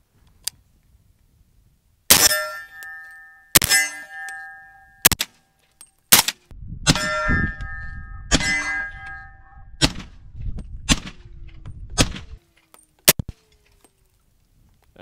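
Several sharp metallic clangs of suppressed 300 Blackout AR-15 shots hitting steel targets ring out at uneven intervals, each a crisp impact with a brief ringing tail, with quieter thumps and rustling between.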